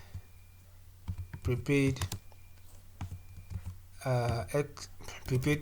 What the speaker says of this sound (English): Now, under the memo, I'm going to type in prepaid